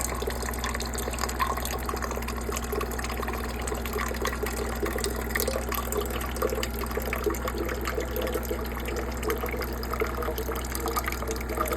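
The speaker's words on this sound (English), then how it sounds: "Now my water, I have a 5-gallon jug, and I just I have a little pump there. You just push it on and it comes out and it's water." A small pump draws water from a 5-gallon jug aboard a sailboat at anchor, a continuous close gurgling and trickling flow over a steady low hum throughout, with no talk.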